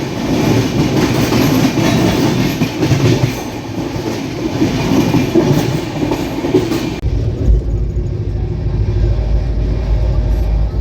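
The 12331 Himgiri Express, a long-distance Indian passenger train, rumbles loudly from on board with steady clickety-clack over the rails and a deep rolling drone that shifts lower and heavier near the end.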